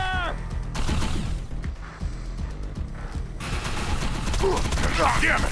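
Gunfire in the Xbox 360 game Defiance, dense loud volleys and bursts of shots with game effects mixed in, and a voice briefly calling out.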